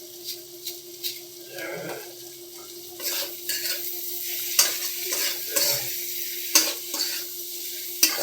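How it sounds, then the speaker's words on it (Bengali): Spiced pea ghugni is stirred and sautéed in a pan, with a constant sizzle and repeated scraping and tapping strokes of a spoon against the pan, loud and close, with faint voice in the background. "ভালো করে কষে নিতে হবে।"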